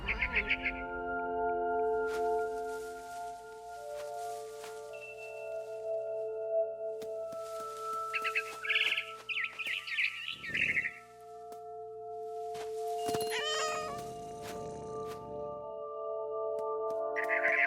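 Barn swallow chirping in the video game What Remains of Edith Finch, bright tweets in short bursts amid layered ambient game tones and scattered clicks, with a few lower rustling sounds.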